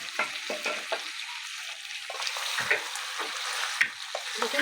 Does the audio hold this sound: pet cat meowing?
no